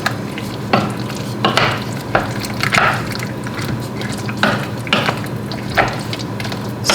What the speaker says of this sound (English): now I take it off the heat and I add my fruits, all of them, and I stir this